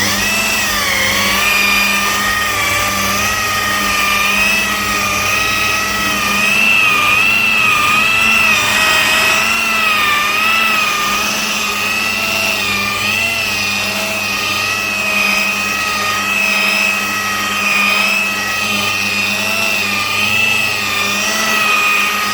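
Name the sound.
machine polisher with polishing mop on Lotus Excel paintwork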